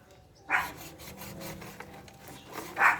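Rough rasping strokes of a hand saw cutting wood, a steady back-and-forth rhythm with two sharper scrapes standing out, close by.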